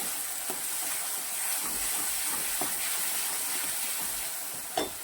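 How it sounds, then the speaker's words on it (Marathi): Besan and onion-coriander paste sautéing in a pan gives a steady, even hiss and sizzle that holds for the whole stretch, with a brief clink near the end and no talking. "अगदी आपल्याला दोन ते तीन मिनिट मस्त परतून घ्यायचे आहे"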